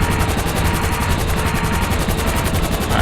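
Helicopter in the video game GTA 5, a steady loud rotor drone with rapid choppy pulsing and dense mechanical rumble throughout, close and continuous with no talk over it.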